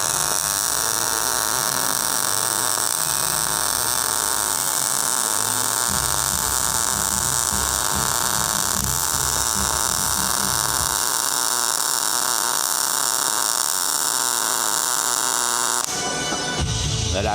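Smart MIG welder running hard wire: a steady, loud crackling buzz continuing for about sixteen seconds, then cutting off abruptly near the end.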